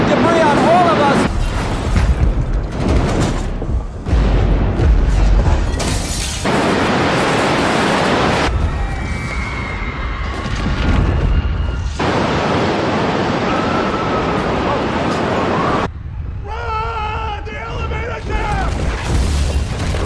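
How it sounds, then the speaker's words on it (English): As the World Trade Center's Tower 2 collapses, a loud, roaring rumble of falling debris rises and falls in heavy bursts, with abrupt cuts and chaotic noise and voices mixed in. "Explosion now, raining debris on all of us."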